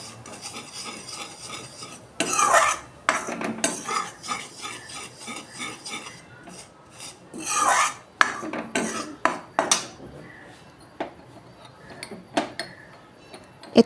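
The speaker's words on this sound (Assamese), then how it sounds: "ঘিখিনি দিয়াৰ পিছত আগৰ দৰে আকৌ অকণমান লৰাই ভাজি ল'ম" A spoon scrapes and stirs wheat flour roasting in ghee in a pan while making atta laddoo, giving irregular bursts of gritty rasping strokes close up, with quieter gaps between them and no talk.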